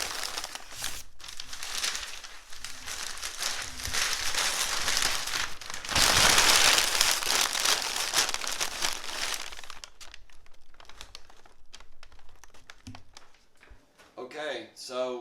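Packing paper crumpled and pushed down into a moving box of kitchen items, a dense crinkling rustle that swells loudest midway, then thins to sparse crackles under a speaking voice.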